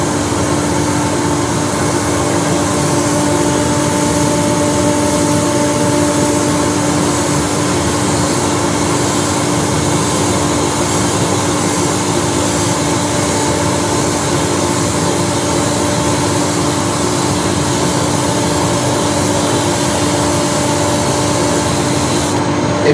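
Dust extractor running during airbrushing of wood-turned fishing lures, a loud constant whooshing drone with a steady tonal hum, unbroken throughout and alone.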